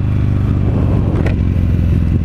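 A Buell XB9R Firebolt motorcycle engine rumbles loud and close with a deep, steady throb, a V-twin sport bike holding a constant idle-like note without clear revving.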